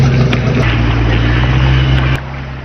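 A small motorboat engine drones loud and near with a steady low hum, then abruptly cuts out near the end, leaving faint background noise.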